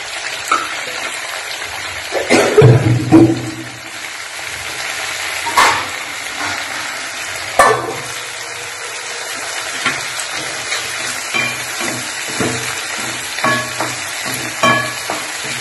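Steady sizzling of tomatoes sautéing in a pan, with occasional clinks and scrapes of stirring throughout.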